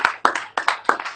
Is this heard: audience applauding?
yes